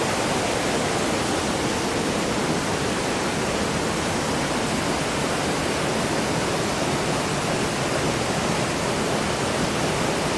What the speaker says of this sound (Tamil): லேடிஸ் ஃபால்ஸில் தண்ணி தூந்து அந்த ஷீல்டு உடைச்சிட்டு வெளியில் வருது பாருங்கள் தண்ணி.